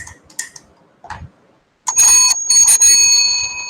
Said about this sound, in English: I will press a buzzer.